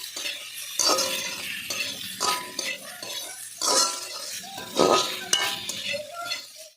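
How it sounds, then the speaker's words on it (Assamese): Swamp eel (kuchia) pieces fry in a pan, a soft sizzle broken by repeated clinks and scrapes of a metal spoon stirring against the pan, close and uneven in rhythm. "ভালদৰে ভাজি ল'ম কুচিয়া মাছখিনি"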